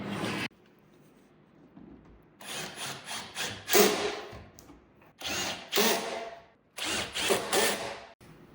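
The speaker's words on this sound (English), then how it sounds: "we can screw through it into the wall studs" Power drill driving screws through a cabinet backer into wall studs, in three loud bursts of whirring, each with a pause between, and a brief burst at the very start.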